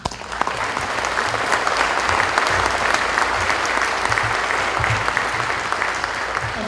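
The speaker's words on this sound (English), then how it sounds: "So I think you all should give yourselves a big round of applause" An audience at a Medal of Liberty ceremony gives a sustained round of applause, dense, even clapping that holds steady and loud throughout with no speech over it.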